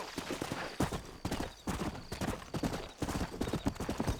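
Galloping horse hooves in the Western video game Red Dead Redemption, a quick rhythmic clip-clop at close range with brief pauses between bursts, and no talking.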